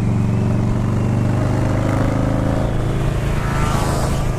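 A continuous, loud engine drone from a motorcycle on a road during the Bikes Blues and BBQ rally, with passing oncoming car noise blending into the steady rumble and wind.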